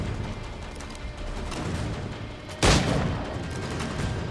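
A gunshot in Assassin's Creed III, a single sharp blast standing out over steady game ambience and background noise.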